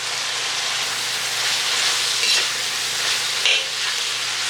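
Carrots and pepper fry in hot oil for pancit bihon, giving a steady, close sizzle with occasional scrapes of stirring throughout.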